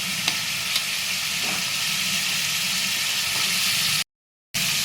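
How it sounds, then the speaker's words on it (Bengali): Fried potatoes go into spice paste sizzling in hot oil for a Bengali rohu fish curry with potato and pointed gourd, giving a steady loud hiss with a few stirring clicks and a brief gap near the end. "এবার আমি ভেজে রাখা আলুগুলো দিয়ে দিচ্ছি"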